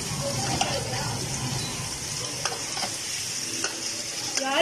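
Biryani is stirred in a pot while it sizzles, a steady frying hiss with scraping spoon strokes and clinks throughout, heard close with faint background voices.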